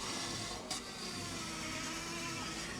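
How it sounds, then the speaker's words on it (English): Wax rubbed onto a black walnut bowl spinning on a wood lathe gives a continuous close rushing friction hiss over the steady whir of the machine, with one brief scuff. "I'm gonna really kind of almost burnishing it into the wood."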